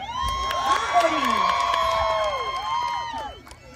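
A live audience cheers, whoops and shouts for an intermediate dance class on stage, a dense crowd roar with children's high shouts rising over it, steady for several seconds before tapering off.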